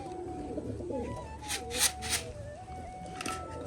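Turkish tumbler pigeons coo softly and steadily while being fed millet, with a few brief, brighter rustling bursts of wings or grain over a low background rumble.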